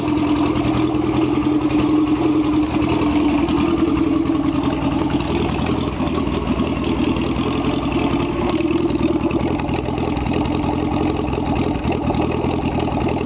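Datsun 1000 (VB10) A10 engine mounted in a box trailer, starting and then idling with a steady, loud, slightly uneven rumble heard up close for the whole stretch.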